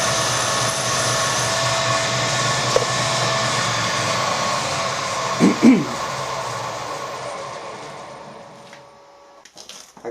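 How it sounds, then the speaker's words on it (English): Cobalt drill bit drilling straight through a 5mm hole: a steady, close whirring machine drone that carries on for most of the clip, with a couple of brief knocks near the middle, before spinning down and fading out. "And then we're drilling straight through 5mm."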